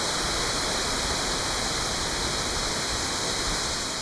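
Clear stream water flows in Meteora, Greece, giving a steady, dense, unbroken rushing wash that stays even and loud throughout, with no voices over it.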